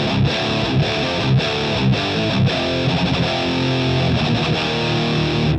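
A Revv G20 amp driving a dry Revv 2x12 cabinet with a distorted electric guitar, chugging a tight palm-muted riff with brief rhythmic gaps, loud and close and slightly honky, no voices present.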